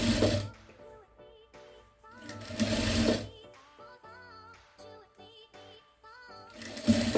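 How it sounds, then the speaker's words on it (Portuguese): A sewing machine stitching a jute placemat runs in short bursts, pausing between runs of close, rapid mechanical whirring, with faint handling noises in the gaps. "Antes de vir aqui pra máquina, coloca alfinete e vem só pra costurar."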